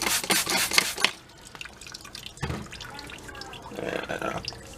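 Brake fluid drips and splashes from a rear brake line on a 2005-2009 GM truck during a brake shoe and wheel cylinder job. Wet drips and spatters come in bursts, close and fairly loud, with quieter stretches between.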